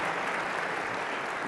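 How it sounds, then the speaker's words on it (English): Dense, even applause from a conference audience for a panel at an investment forum, a continuous wash of clapping with no speech over it. "And can we give our panel a round of applause, please?"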